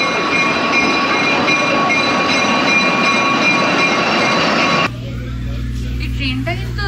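A passenger train on the rail line to Machu Picchu rumbles and rattles steadily from inside a carriage, then the roar drops to a quieter hum as a person talks nearby.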